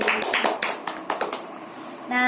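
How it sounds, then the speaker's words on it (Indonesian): Students in a classroom clap for themselves, a brief burst of several sharp, close handclaps in an uneven rhythm that quickly thins out before a voice starts speaking. "Kalian boleh tepuk tangan untuk diri kalian sendiri"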